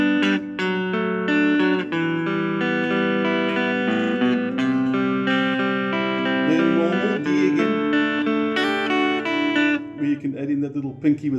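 An acoustic guitar plays the chords of a song at full tempo, strummed and picked in a steady flowing rhythm. It is close and clear, with no talking.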